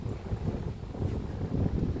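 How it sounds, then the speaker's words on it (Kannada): Strong wind gusting across a wide open field with felled trees in a green Sirsi village, Uttara Kannada, roaring and buffeting the microphone in low, uneven surges that swell toward the end, with no one talking. "ಸಖತ್ ಜೋರಾಗಿ ಗಾಳಿ ಇದೆ."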